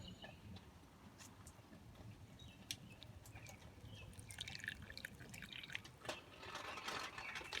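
Water drips from a freshly watered bonsai pot outdoors, producing faint, irregular small splashes over a quiet background.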